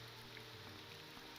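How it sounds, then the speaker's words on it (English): Rain falls steadily in the Morrowind town of Balmora by the Odai River, a faint, even hiss of drops with no other sound. "It's still raining, which is annoying."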